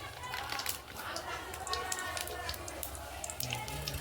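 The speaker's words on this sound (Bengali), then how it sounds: "এবার আমি তেজপাতা দিচ্ছি গোটা জিরে দিচ্ছি আর দিচ্ছি দুটো লবঙ্গ আর দিচ্ছি দারচিনি" Bay leaf, whole cumin, cloves and cinnamon hit hot oil for chicken kosha, giving a continuous crackling sizzle with scattered pops beneath a person talking.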